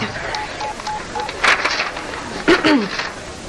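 Three telephone keypad tones beep in sequence for an emergency number, clear and close. Each tone comes in a short burst, spaced about a second apart, with muffled room noise between them.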